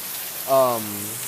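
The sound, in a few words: heavy rain falling outside an open door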